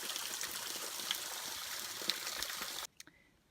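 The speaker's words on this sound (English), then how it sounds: "Ice cold mountain water." An ice-cold mountain stream along the Appalachian Trail rushing steadily nearby as a broad hiss of flowing water, then cutting off abruptly near the end with a couple of faint knocks.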